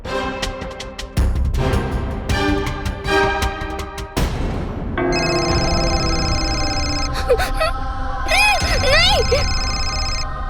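A telephone rings in a stretch of repeated bursts, starting after an opening of drama dialogue and loud scene sounds, then ringing steadily and close for several seconds while tones bend and warble near the end.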